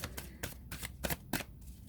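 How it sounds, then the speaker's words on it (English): Tarot cards riffled and shuffled in several quick, crisp bursts, each a brief papery flutter followed by short pauses, fairly close and alone. "That was a really bad shuffle."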